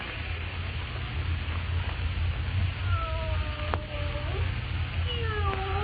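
A pet cat meows a few times in a drawn-out, wavering way, plainly heard over a steady low hum of background noise, with no talking.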